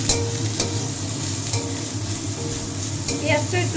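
Chopped onion fries in a pan for a vegetable-peel mash, a steady close sizzle broken by repeated spatula scrapes and stirring clatter, with no voices over it.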